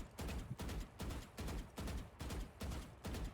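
Rapid rifle fire in the shooter game Valorant: about eight quick bursts in a steady rhythm, each a punchy crack with a short tail, fairly faint overall and with no voices over it.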